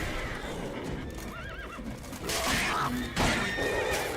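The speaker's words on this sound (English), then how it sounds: "Get away, horse!" Horse neighing and whinnying in The Witcher 3, with a wavering whinny midway and louder snorts and cries later, mixed with hoof clip-clop and battle noise, alone without speech.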